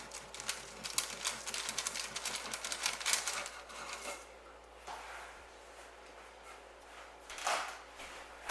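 A knife saws through a slice of peanut butter bread in a steady run of rapid, close scraping strokes, easing off partway through before a few softer cuts follow.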